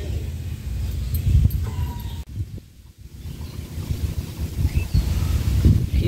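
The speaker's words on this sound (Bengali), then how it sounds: "কি সুন্দর বাতাস," Wind gusts outdoors in a low, buffeting rumble against the microphone during light drizzle, swelling and easing with a brief lull midway.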